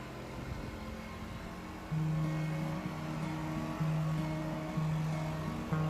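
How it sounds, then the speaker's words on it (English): A leaf blower drones steadily close by, blowing grass cuttings off the lawn edges in November, its motor pitch stepping up and down as the throttle shifts. "what I'm doing now is blowing all the cuttings from the edges into the middle of the lawn"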